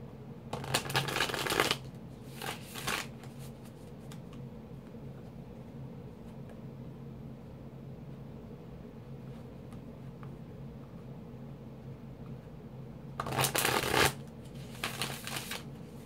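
Tarot cards shuffled by hand, a loud riffling burst at the start and a second near the end, with brief softer card handling between and a steady quiet room hum throughout.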